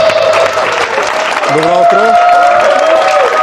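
A TV studio audience applauds on a game show, loud continuous clapping under music while someone speaks briefly in the middle.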